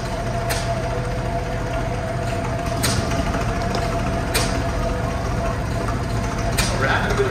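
A 1929 Series 2 Field Marshal tractor running in a threshermen's reunion parade: a steady low engine drone with creaking, clanking mechanical noise and a few sharp metallic clicks, heard outdoors.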